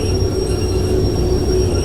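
In the video game Derail Valley 2, a train brakes toward a stop with a steady, loud rumbling roll and a sustained high squeal of wheels and brakes, continuous and close, with no talk.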